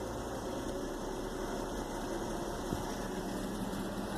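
An old engine on a heavy scrap boiler runs with its choke partly open, giving a steady low idle rumble with a faint vibration that holds even throughout, no talking.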